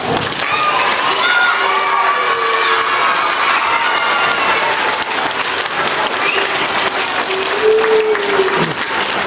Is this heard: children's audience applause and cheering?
yes